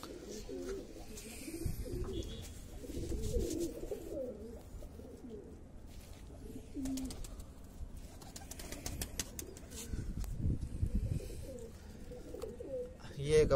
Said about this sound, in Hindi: ये मद्रासी कबूतरी है किसी की